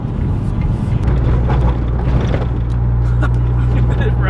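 A Nissan S13 street car on new suspension rolls over a rough road, heard from inside as a steady low road and engine rumble with continuous thumping and rattling from the surface.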